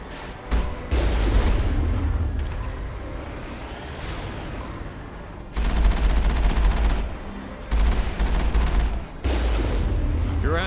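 Gunfire in the Mass Effect 1 video game: loud, dense bursts of shots and booming fire in rapid volleys, broken by brief pauses, with a faint voice in the background.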